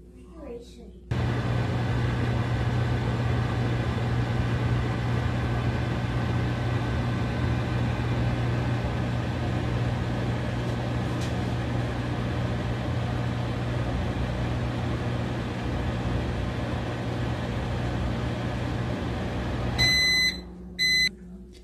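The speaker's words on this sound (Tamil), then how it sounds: "அவனில் ஒரு 30 செகண்ட்ஸ் மட்டும் இது மெல்ட் ஆகிற அளவுக்கு நம்ம வச்சு எடுத்துடலாம்." A microwave oven melts cheese for about thirty seconds, its steady humming drone running unbroken for nearly twenty seconds before stopping, followed by a short series of sharp electronic beeps.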